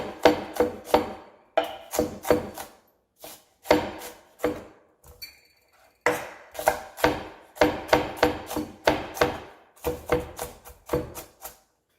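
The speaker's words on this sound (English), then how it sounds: "So you'll just keep working it until you have your onion evenly chopped" A knife chops an onion finely on a cutting board for a keto chimichurri sauce, giving steady bursts of close, rapid taps with brief pauses between runs, and no talking.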